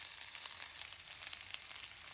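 Onions sauté in a pan with garlic ginger paste and crushed chili, a soft, steady sizzle heard alone and fairly faint for a couple of seconds.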